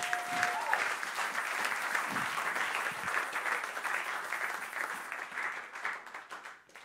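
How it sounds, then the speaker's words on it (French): A church congregation claps together in loud, thick applause that holds steady for several seconds before tapering off, with a short tone and faint voices mixed in near the start. "Acclamez pour vous-même."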